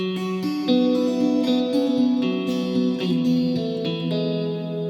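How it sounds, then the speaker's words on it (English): An electric guitar plays a clean arpeggio through a Kemper profiling amp with heavy reverb, its notes ringing and overlapping into a lush, sustained wash, loud and alone with no talking. "I'm using the Kemper right now. It's a profiling amp, but so there's a lot of reverb there"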